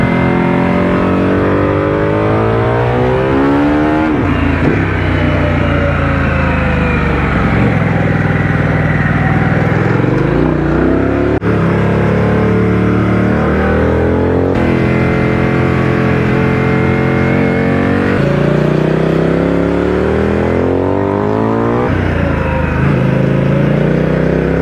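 Harley-Davidson Pan America motorcycle on Michelin Anakee Road tyres accelerating hard on a road, its engine revving up through repeated gear changes, loud and close against steady wind noise.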